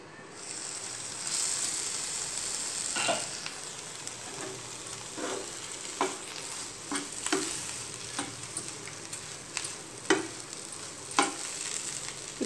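Potato curry with coriander leaves sizzles gently in a pan for aloo bonda, with intermittent spoon scrapes and taps spaced a second or so apart over a soft, continuous frying hiss.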